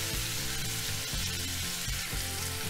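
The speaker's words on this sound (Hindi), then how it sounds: "हमें इसे बहुत ब्राउन नहीं करना है, बस हल्का सा इसे भून लेना है।" Paneer pieces lightly frying in a pan give off a steady, gentle sizzle, close and fairly quiet, with a few soft stirring or shifting sounds.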